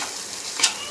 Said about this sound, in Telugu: ఇప్పుడు దీన్ని ఫ్రై చేద్దాం.